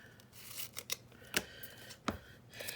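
Painter's tape is pulled and torn from its roll in a few quick, sharp ripping bursts with short quiet gaps between them, heard up close with no voices.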